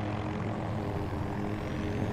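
A helicopter in the video game Battlefield 2042 drones with a steady, dense rotor-and-engine roar that holds at an even level throughout, with no voices.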